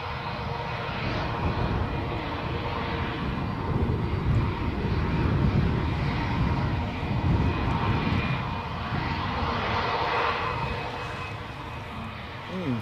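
An airplane passing close at Newcastle International airport, its engines a steady loud roar that swells and holds throughout, with a voice talking faintly underneath.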